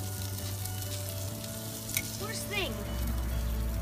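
Shrimp sizzling on a barbecue grill outdoors, a steady close frying hiss with low rumble beneath and a brief squeaky whistle-like sound partway through.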